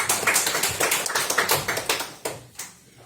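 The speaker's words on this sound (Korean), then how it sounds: "다시 한번 큰 박수" An audience at a Korean policy forum on the low birth rate claps in a dense burst that thins into a few scattered claps and then fades.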